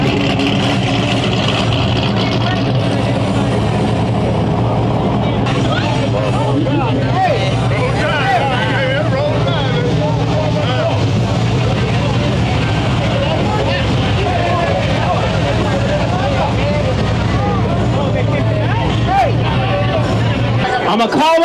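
A Corvette V8 fitted with a LeMans exhaust idles loudly at a Summit Racing exhaust contest, a deep steady rumble under crowd chatter and talking, running nearly continuously from start to end.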